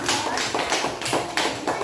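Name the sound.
children's round of applause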